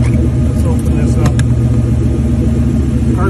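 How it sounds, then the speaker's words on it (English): A car engine runs steadily at idle with its fuel pump circulating fuel, giving a constant loud low rumble and hum, with the trunk open and no pauses. "Car's still running, so we're still circulating fuel."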